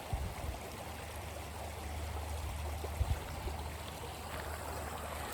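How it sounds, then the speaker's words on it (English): Water trickles steadily in a small stream, a soft continuous babble heard close by with no other sounds. "A little runoff running into the creek here."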